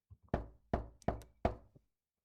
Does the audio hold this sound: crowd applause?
no